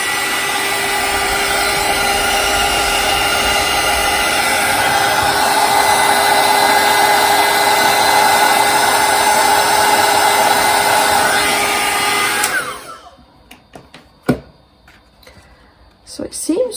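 A craft heat tool heats embossing powder on an adult colouring book page, blowing with a steady loud hiss for about twelve seconds before switching off, followed by quiet handling sounds.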